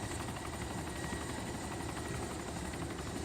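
A helicopter flies steadily through the DayZ game world on a foggy day, its rotor chopping in a dense, continuous drone that stays loud and even throughout, with no voices.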